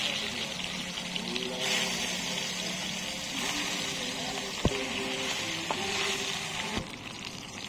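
Bhetki fish fries lightly in oil in a kadai, a moderate, steady sizzle with faint bubbling and a few sharp ticks and clicks.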